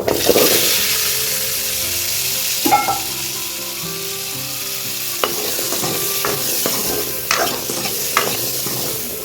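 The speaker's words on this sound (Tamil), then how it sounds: "நெக்ஸ்ட்டு தக்காளி வெங்காயம் பூண்டு வதக்கி எடுத்துடலாம்" Tomato, onion and garlic sauté noisily in a wok-style pan, a steady broadband sizzle with repeated scraping stirs and occasional knocks of the spoon against the metal, close and loud throughout.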